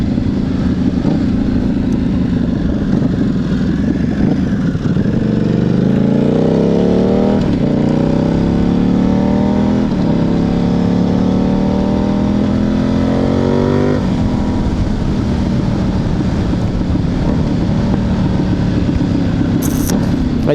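A 2009 Buell 1125R motorcycle pulls hard, its engine climbing through rising revs in repeated upward sweeps before settling back, loud and close with steady wind roar throughout.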